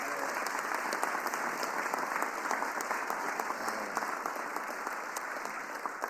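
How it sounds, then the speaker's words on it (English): Applause fills a press conference with steady, even clapping from a crowd, heard at a moderate distance and holding without a break from start to finish. "So let's give her a real big round of applause."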